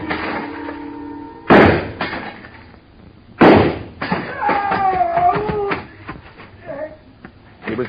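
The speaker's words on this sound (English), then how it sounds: "I started deliberately shooting his foothold out from under him." Two sharp gunshot blasts ring out close and loud in an old-time radio drama, the second followed by crashing, tinkling glass from a shattering store showcase, with voices speaking briefly in between.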